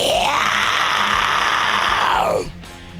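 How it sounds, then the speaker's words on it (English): A man lets out one long, loud, raspy black-metal style scream lasting over two seconds, distorted and shrieking, then cuts off abruptly into quiet room noise. "would you like to give me your best metal scream?"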